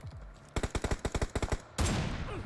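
Video game gunfire in a multiplayer shooter: a rapid burst of about a dozen sharp shots fired in quick succession, followed by a louder sustained blast of noise, with no talking.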